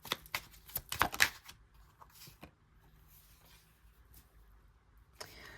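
Tarot cards being shuffled and handled up close, a quick burst of crisp riffling taps and flicks that soon fades into quiet room tone, with a brief rustle at the end.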